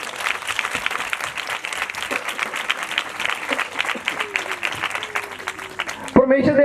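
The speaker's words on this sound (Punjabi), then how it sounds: "ਪਰਮੇਸ਼ਰ ਦੇ ਨਾਮ ਲਈ ਇੱਕ ਵਾਰੀ ਜ਼ੋਰਦਾਰ ਤਾੜੀ ਲਗਾਓ" A church congregation at a disciples' convention breaks into loud, sustained applause that fills the room. A voice carries over the clapping and rises near the end.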